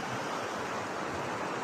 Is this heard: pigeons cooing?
no